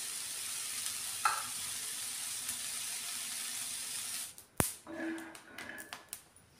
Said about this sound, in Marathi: हे थोडं शेंगदाणे आपण भाजून घेऊया चटणीला.